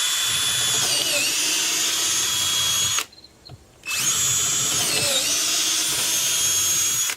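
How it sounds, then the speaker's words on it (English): A power drill bores holes for lag bolts at pilot holes, whining loudly and steadily at close range in two long runs separated by a brief pause. "I'm going to go ahead and drill where I already put the pilot holes"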